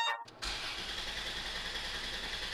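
A customized minivan engine cranks briefly and catches, then settles into a steady, rough running rumble, heard close and alone.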